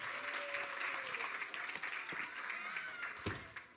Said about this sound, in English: One more round of applause for my volunteers